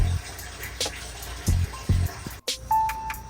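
Water pours into a pressure cooker holding beef bones for nilagang buto ng baka, in short splashing gushes with clanks of metal between them, close and fairly loud.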